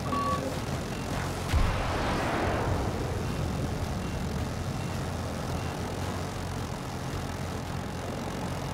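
In Battlefield 2042, an Osprey aircraft roars overhead with a broad, steady engine drone that swells briefly as it passes close, then holds as a continuous rumble under the game's noise.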